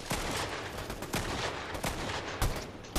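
Assault rifle gunfire in the Fortnite video game, with repeated sharp shots cracking out over a dense, busy game backdrop, several louder bursts spaced irregularly through the stretch.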